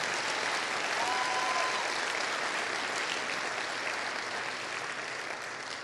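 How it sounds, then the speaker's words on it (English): Steady, dense applause from a large audience at a motivational speaking event, a brief whistle near the start, loud and even throughout and fading slightly toward the end. "Give yourselves a round of applause."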